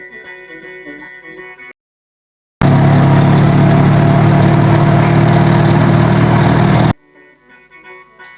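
A tuk-tuk drives along a road in rural Laos near Champasak, its engine a loud, steady droning rumble for several seconds, framed by quieter music before and after.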